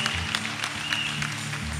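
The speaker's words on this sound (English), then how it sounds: "You are too stingy with your clap" A congregation at a Sunday church service claps, a brief, steady patter of applause over a sustained low musical hum.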